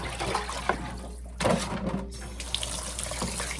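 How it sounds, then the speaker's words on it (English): Water poured out of a container holding freshly caught fish, splashing and gushing steadily with a brief louder surge partway through, heard close up. "I'm going to pour this water out."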